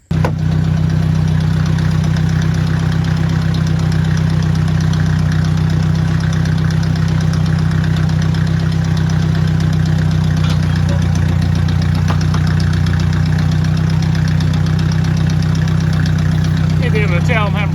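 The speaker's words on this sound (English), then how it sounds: "We'll crank the tractor, we'll raise it up." A tractor engine idles steadily throughout, a deep low rumble with constant chugging and no pauses.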